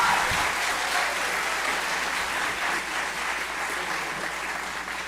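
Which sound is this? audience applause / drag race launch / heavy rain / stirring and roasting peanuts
audience applause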